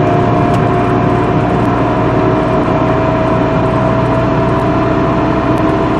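A 2004 Toyota Tacoma 2WD, freshly fitted with new inner and outer tie rods and awaiting alignment, rolls along the road, its steady engine and tire drone filling the cabin continuously with no talking.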